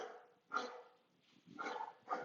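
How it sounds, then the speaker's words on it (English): A dog barks in three separate bursts, fairly close, with short quiet gaps between them. "And you hear my dogs barking?"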